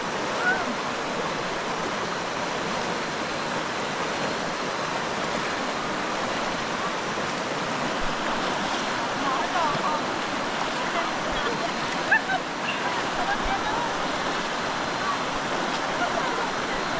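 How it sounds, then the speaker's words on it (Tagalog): Broadband rushing river water flows steadily and loudly at a crossing on Mt. Irid, a continuous wash with no breaks, occasional faint knocks and a hint of voices beneath. "Pang-anim na ilog ng pagtawid."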